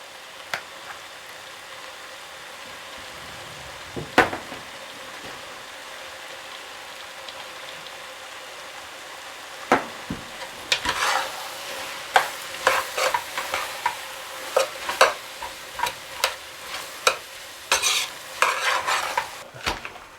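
A bell pepper mixture sizzles in a frying pan while a utensil stirs it, giving a faint steady hiss broken by scraping clacks that grow busier and more rhythmic toward the end.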